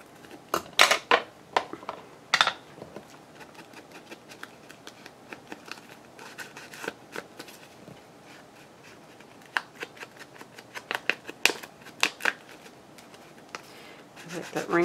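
Scissors snip through a paper envelope in irregular bursts of crisp cuts with rustling between, close and moderately loud, while someone talks quietly in the background.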